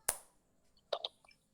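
One sharp, close hand clap cracks out in a quiet indoor space, followed by a few fainter, scattered taps.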